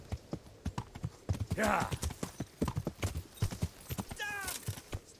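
Rapid clip-clop of horse hooves runs steadily throughout, mixed with shouting voices and a brief whinny near the end.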